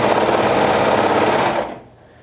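A sewing machine stitching around a garment hem runs with a fast, steady mechanical whir close by, then winds down and stops about two-thirds through, leaving near silence.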